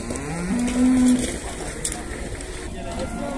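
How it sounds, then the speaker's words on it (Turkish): A cow at a livestock market in Ganja gives a loud, drawn-out moo amid the crowd's steady murmur and nearby talking. "Bak böyle bir inek var."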